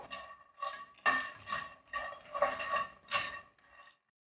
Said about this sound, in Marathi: यांनाही आपण खरपूस असं भाजून घेऊया